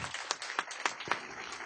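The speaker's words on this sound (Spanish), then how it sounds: "Fuertes aplausos al Señor por su amor y su misericordia." A church congregation clapping in praise, a close, rhythmic run of hand claps at a steady beat with no talk.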